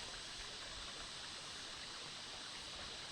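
Flowing water of a large creek beside an old path, a steady, soft rushing wash heard faintly and continuously with no voices.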